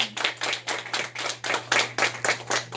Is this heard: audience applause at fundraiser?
yes